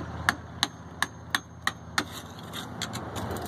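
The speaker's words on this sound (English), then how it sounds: "I have a hammer there. And you can start just beating on this." A hammer strikes mortar in a brick wall to loosen it, about six ringing metallic taps at a steady pace followed by fainter scraping, close up with no talking.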